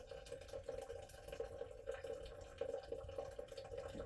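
A slow spigot in a deer blind trickles water into a container, giving a quiet, continuous stream with a steady filling tone and small irregular drips and splashes.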